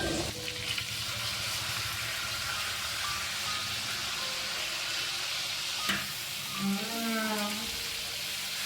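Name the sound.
fish frying in a pan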